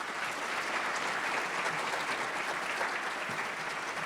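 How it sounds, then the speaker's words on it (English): Sustained applause from an audience at a scholarship and award banquet, honoring the award recipients, a steady dense clapping that holds evenly throughout with no talk over it. "Let's give another round of applause to all our recipients."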